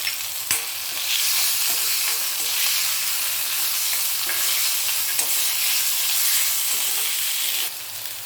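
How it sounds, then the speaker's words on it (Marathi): Ginger garlic paste and tomato frying in a pan for a cluster bean (gavar) vegetable dish, a steady loud sizzle with stirring scrapes throughout, one sharp clink near the start and the sizzle dropping slightly at the end. "दोन मिनिटं परतून घेऊया आलं लसूण पेस्ट, आणि त्यात टोमॅटो ॲड करू।"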